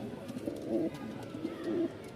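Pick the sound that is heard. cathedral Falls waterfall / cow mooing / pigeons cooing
pigeons cooing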